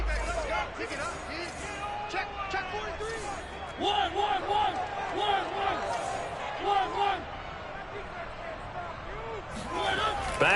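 A football stadium crowd roars as the home defense holds on the opening drive. The steady, dense cheering swells in waves beneath a commentator's continuous talk.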